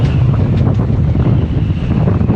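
Strong wind at a boat dock where the water has been blown away, a loud continuous roaring buffet across the microphone with gusty rumbling and no pauses.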